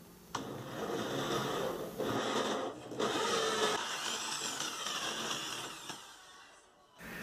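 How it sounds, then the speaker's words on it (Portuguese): A 50 mm hole saw on a drill cuts through a marked spot, a steady grinding whir with brief pauses and a final stop near the end, close and moderately loud. "Agora vou pegar uma serra-copo de 50 milímetros de diâmetro e vou furar onde está marcado."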